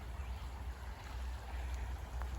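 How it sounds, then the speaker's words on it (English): A small creek flows beside a wooded walking trail at Wesleyan College in Macon, Georgia, giving a steady, soft broadband rush of water that continues throughout with no talking. "all of a sudden you just pop out of the woods and you're beside this lovely little creek"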